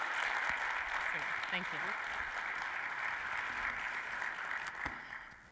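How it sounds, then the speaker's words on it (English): An audience at an NCAA session claps as a speaker takes the podium, the applause steady but somewhat distant and soft, with a brief spoken thanks near the end as it fades. "Please, a round of applause as Julie takes the podium."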